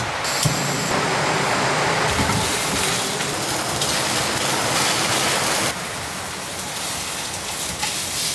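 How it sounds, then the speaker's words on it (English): Torrential rain pounds on a remote cabin in a continuous, loud, hissing wash of noise, steady throughout with a slight drop in intensity toward the end and no voices. "This rain is absolutely insane."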